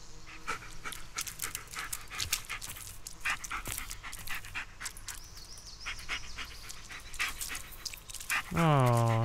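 Dog panting in the video game Blair Witch, a steady rapid breathy rhythm running throughout with scattered clicks and small whimpers, ending in a loud rising tonal sound at the close.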